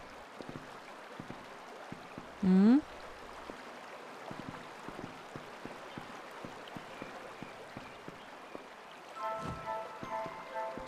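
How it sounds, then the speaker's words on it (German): A waterfall in the video game Kingdoms of Amalur: Reckoning gives a soft, steady rush of falling water that runs throughout, with a brief murmured hum from a voice partway through. "Wasserfall."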